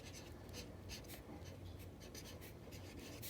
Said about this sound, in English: So write a star like this